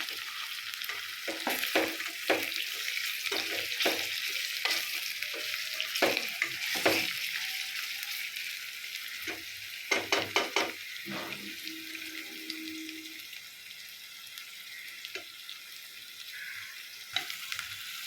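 Onions sauté in a pan for Chennai-style chicken biryani, a soft steady sizzle broken by repeated scraping and clinking stirs, close and fairly quiet, with no talking.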